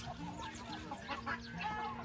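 Scared hens in a farmyard give a run of quiet, uneven clucks and squawks at a moderate distance, with no voices over them.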